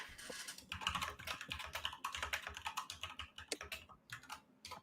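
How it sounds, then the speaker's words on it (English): Rapid, uneven clicking of keys on a computer keyboard as someone types a message, the taps close and fairly quiet, with short pauses between bursts and no voice. "I'm going to try typing a message to him."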